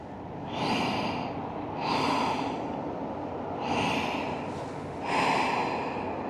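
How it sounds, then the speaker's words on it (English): Deep breathing during a yoga pose for low back pain: four slow, close, airy breaths, each swelling and fading with an audible rush of air, steady and unhurried. "3 more breaths."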